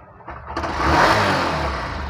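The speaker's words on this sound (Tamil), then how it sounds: "நான் பைக்கை ஸ்டார்ட் பண்ணுறேன் பாருங்கள்" A Honda Shine BS6 motorcycle engine cranks and catches, then runs with a rough, rising roar for about two seconds, close and loud, with no voices.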